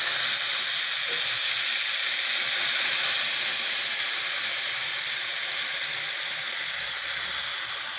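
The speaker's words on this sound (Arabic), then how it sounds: "هزودها ميه واخليها تستوي" A loud, continuous steaming hiss as boiling water is added to a pan of browned chicken, holding steady and easing slightly toward the end.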